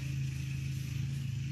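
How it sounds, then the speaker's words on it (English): A lawn mower runs outdoors in a steady, unbroken engine drone with a low, buzzing hum, heard at moderate distance and alone throughout. "You'll have to excuse the noise outside. My husband's mowing."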